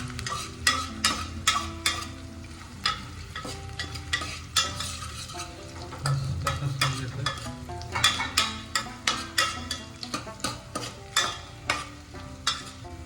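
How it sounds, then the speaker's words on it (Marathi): Onion fries with tempering spices until reddish for Kolhapuri tambda-pandhra rassa, a spatula scraping the pan in quick rhythmic strokes over a soft, continuous sizzle. "फोडणीच्या मसाल्यासोबत कांदा लालसर करून घ्यायचा."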